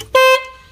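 Horn of a Maruti Suzuki Swift car being tested at home for a fault, with one horn working and the other dead: a single short, loud honk of about a quarter second, then quiet.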